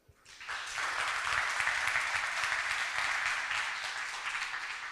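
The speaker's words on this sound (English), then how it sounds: "Please have a round of applause." At the APAC Summit 2025 market access showcase, the audience breaks into applause for the pitching startups. Clapping rises quickly from quiet into a full, steady roar of many hands, then eases off slightly toward the end.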